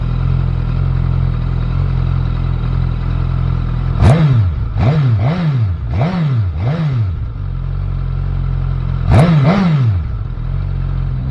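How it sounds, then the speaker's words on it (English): A 2020 Suzuki Katana motorcycle engine idles steadily, then a series of sharp throttle blips sends it revving up and back down, five quick revs in a row followed by a pause and one more rev, loud and close. "Let me show you the motor here a little bit. Get her started. Rev her up."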